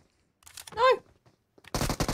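Gunfire in PUBG Mobile: a short burst of shots in the middle, then a louder dense stretch of rapid fire at the end, with a brief voice-like tone between.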